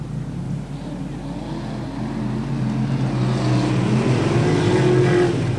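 Modified rod race cars run a points-scoring heat on a circuit, a steady blended engine drone from several cars holding through the whole stretch, rising slightly in pitch and loudness toward the end, with no talk over it.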